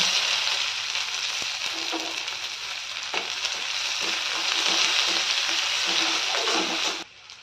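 Five-spice seeds and chopped onion frying in hot oil, a loud continuous sizzle with stirring scrapes throughout that cuts off abruptly at the end, no talking.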